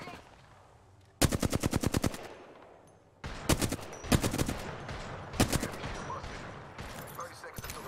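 Rapid automatic gunfire in a battle-royale shooter video game, loud bursts of closely spaced shots repeating several times, with short pauses between volleys and faint game voice lines underneath.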